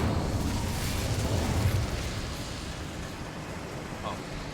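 The Incendio fire spell in Hogwarts Legacy erupts as a broad, roaring whoosh of flame that swells and then holds at a steady, fairly loud level, tapering slightly toward the end.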